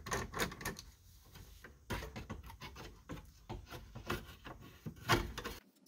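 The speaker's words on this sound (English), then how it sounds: "I'm going to remove the bracket with the windshield wiper switch and the light switch. I'm using a 7mm socket." A socket wrench working bracket screws loose on the dash of a 1978 Monte Carlo, a series of quiet irregular clicks, taps and scrapes close by, with short pauses between bursts.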